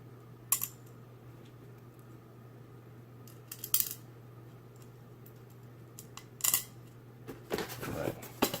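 Small screws pushed through a nickel GPU waterblock, producing faint sparse metallic clicks and taps in short clusters over a low steady hum, with a busier rattle near the end.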